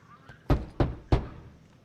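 A locked door being tried in Guardians of the Galaxy, giving three heavy, evenly spaced thunks as the handle is rattled against the lock, close and solid.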